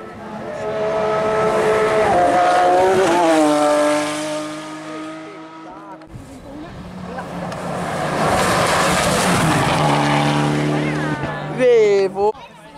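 A Porsche rally car races a special stage at the 35th Rally Città di Torino 2020, engine roaring loud and close as it revs up through the gears, drops back, then climbs again, with harsh revving near the end.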